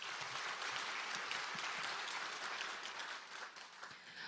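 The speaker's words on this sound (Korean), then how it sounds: "큰 박수 부탁드립니다" A crowd at a Korean lawmaker's community report meeting applauds the introduction of four citizen panelists, with brisk, continuous clapping that holds steady and tapers slightly toward the end.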